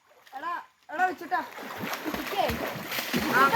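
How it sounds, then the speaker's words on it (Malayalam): A child swims and splashes in water; brief childish voices come first, then a steady stretch of close, broadband splashing and sloshing that grows louder toward the end. "കണ്ണ ഇന്ന് ഫുള്ള് നീന്ത്."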